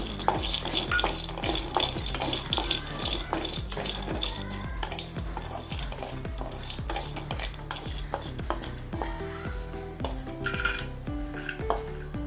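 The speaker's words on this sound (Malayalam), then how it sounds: "അണ്ടിപ്പരിപ്പും ബദാമും കൂടി വറുത്തെടുക്കുക" Cashews, almonds and cardamom roasting in a pan, with rhythmic clattering stirs, metal scraping and light sizzle repeating steadily up close, and no one talking.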